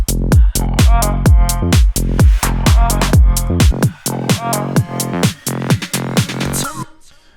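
Breakdown section of a modern tech house track, with loud punchy kick-and-bass hits in a steady rhythm, vocal ad libs and swept effects; the low end drops out midway, leaving sparser hits and effects before fading.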